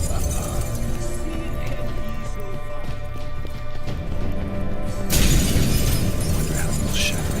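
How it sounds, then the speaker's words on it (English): A mirror shatters in The Witcher 3: Hearts of Stone with a sudden loud glassy crash partway through, cutting across steady game ambience that includes hoofbeat-like clopping. "Gotta be some mirror here you won't shatter."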